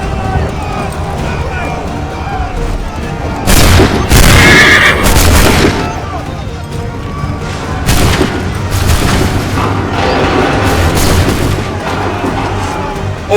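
Volleys of musket fire in Assassin's Creed 3, loud booming bursts at several points amid shouted commands, horse whinnies and battlefield noise.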